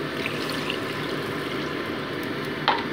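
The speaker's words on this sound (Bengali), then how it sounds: "এবার অ্যাড করে দিচ্ছি আমি জল।" Water pours into a pan of soya curry masala with potatoes and soya chunks, making a steady close trickling wash that runs the whole time, with a brief brighter splash near the end.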